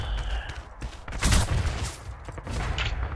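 MG42 machine gun fire in Red Orchestra 2, a battlefield game: a dense, chaotic volley of gunshots with a loud burst near the middle, over a continuous din of combat.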